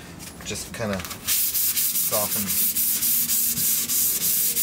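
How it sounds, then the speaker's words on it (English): Steady sanding of a wooden skateboard deck with 600 grit sandpaper, a continuous close rubbing hiss with rhythmic strokes, after a few brief spoken words at the start. "I like a really smooth sand on them so they feel nice to the touch"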